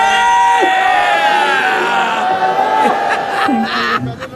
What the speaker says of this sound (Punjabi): ਇਹਨਾਂ ਲਈ ਇੱਕ ਵਾਰੀ ਜੈਕਾਰਾ ਛੱਡ ਦਿਓ ਪਲੀਜ਼